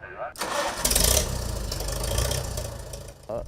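A Farmall 350 tractor engine cranks and catches, then settles into a loud, rough, chugging idle heard close up, with a voice briefly at the start and end.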